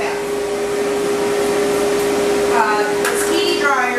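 A stand dryer blows a steady, loud stream of air while fluff-drying a dog's coat during grooming, a constant whooshing hum with a faint tonal whine, and brief speech-like sounds surface near the end.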